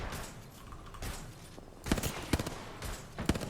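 Bursts of gunfire in an Apex Legends match during an ALGS preseason qualifier, several sharp shots cracking out over the last half, mid-distance and fairly loud over a busy game ambience, with no talk in the clip.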